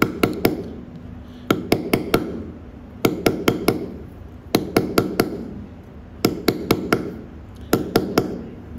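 A mallet strikes a chisel while letters are cut in stone, giving sharp, ringing knocks in quick groups of three to four, each group repeating at steady intervals, close and clear.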